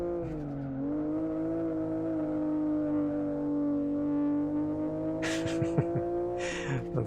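Race car engine in the Live For Speed driving game holding a steady, loud, buzzing drone throughout, with a slight pitch dip early on and a few brief scrapes and clicks near the end.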